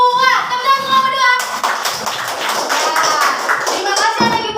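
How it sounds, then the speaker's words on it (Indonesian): Classroom children clapping for a group, a burst of quick, overlapping claps from several kids close by, heard between stretches of someone speaking and children's voices. "Tepuk tangan kelompok 2."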